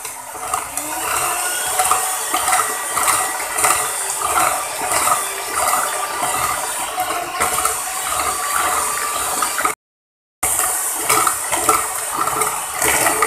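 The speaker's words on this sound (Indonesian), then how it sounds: "Sekarang kita mixer lagi." An electric mixer whirs steadily as it beats date butter cake batter in a home kitchen, a loud, continuous mechanical buzz with a rattling edge, broken once by a brief cutout of near silence.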